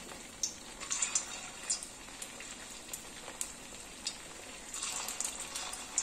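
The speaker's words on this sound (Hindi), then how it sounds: "ऑयल मेरा गर्म हो चुका है, मैंने अभी हाई फ्लेम पर रखा हुआ है और धीरे धीरे हम बॉल्स को इसमें डालेंगे।" Poha balls hit hot oil in a kadhai over a high flame, giving a soft, steady sizzle dotted with irregular crackles and pops, with no talk over it.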